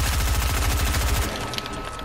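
Rapid automatic gunfire in the Fortnite video game, a dense, loud burst of fast repeating shots for over a second that then thins into scattered fainter fire.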